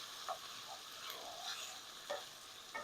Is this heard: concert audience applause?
no